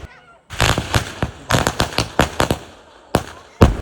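Firecrackers bursting at an evening Vishu celebration, a rapid string of loud, sharp cracks with short gaps between bursts and a final few separate bangs.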